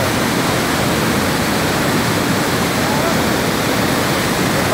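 Rushing water at Rakasganda waterfall roars loud and steady, a dense unbroken wash of noise filling the whole clip.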